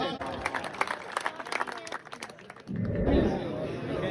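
Audience at a mushaira claps after a speaker on the microphone calls for applause, with a broad wash of clapping and cheering in the final second and a half.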